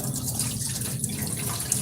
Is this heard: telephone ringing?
no